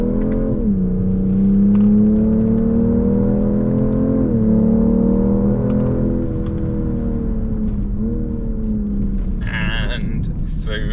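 A car engine drones loudly from inside the cabin on a fast lap of the Nurburgring. Its pitch climbs steadily and drops sharply at each gear change, repeating several times, and ends with brief sharper noises.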